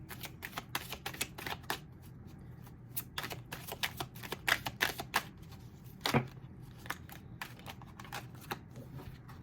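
Tarot cards being shuffled by hand: quiet, close, rapid papery riffles and flicks in irregular bursts, with one sharper snap near the end.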